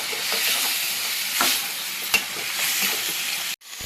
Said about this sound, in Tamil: நல்லா போட்டு வதக்கிக்கலாம்.